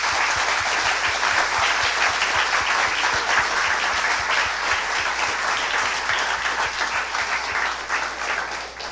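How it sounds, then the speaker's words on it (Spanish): A church congregation bursts into loud, sustained applause, a dense wash of clapping that stays steady for several seconds and thins slightly toward the end. "Denle un fuerte aplauso al Señor."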